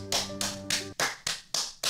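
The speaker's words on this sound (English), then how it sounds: "But let's give some claps" Hands clap in a steady rhythm, six or so sharp claps spaced evenly and close by, with no talk.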